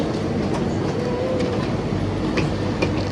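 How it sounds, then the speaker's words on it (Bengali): An airport inter-terminal shuttle train is heard from inside while riding: a steady loud rumble with rhythmic clicks and light squeals from the wheels, and no voices. "আমরা এখন ট্রেনে যাচ্ছি"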